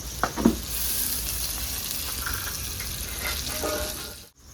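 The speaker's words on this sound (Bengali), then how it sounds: "এবার দিয়ে দেবো একটা মিডিয়াম সাইজের টমেটো।" A medium-sized tomato drops into hot oil in a gravy, setting off a steady, close sizzle with a brief splash and stirring clatter near the start, then a continuous frying hiss to the end.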